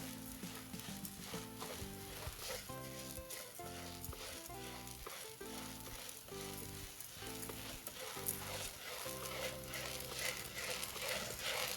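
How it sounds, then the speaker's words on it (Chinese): Washed red beans are dry stir-fried over high heat in a flat frying pan, giving a steady, continuous sizzling rattle that runs throughout over a constant tonal background. "洗好的红豆直接倒进平底锅中，开大火不停翻炒，先把表面水分炒干"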